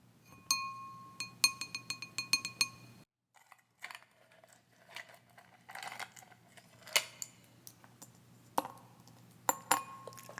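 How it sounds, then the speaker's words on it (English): Ice cubes clink and rattle against a glass in a quiet room, a burst of rapid bright taps for a few seconds, then scattered sharper clinks and knocks with a pause between, close and crisp. "Ice cubes."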